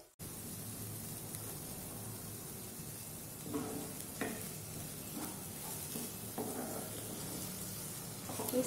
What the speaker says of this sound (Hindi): मसाले के साथ अच्छी तरीके से भून लेंगे।